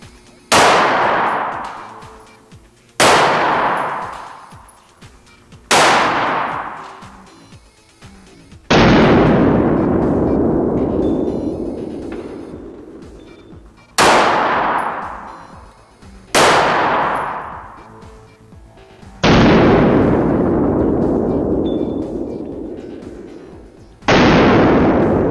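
Nine-millimetre bullets strike thin bullet-resistant glass in a series of about eight sharp, loud cracking impacts spaced a few seconds apart, each ringing and decaying before the next, with no voices.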